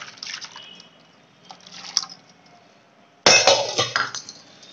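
Juice poured into a bowl for a homemade henna and amla hair dye mix, a soft trickling splash at first, then a louder, sudden burst of liquid and clinking glass near the end, close and without talk.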